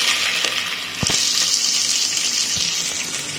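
Onions sizzle in hot oil and ghee in a pan for a South Indian tomato kurma, giving a steady, close crackling hiss with a couple of soft knocks.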